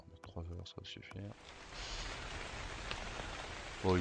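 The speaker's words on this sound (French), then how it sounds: "Oh, il pleut." Steady rain falls in a video game, a broad hiss of rainfall that swells in after some brief talk and continues evenly, with a voice returning at the end.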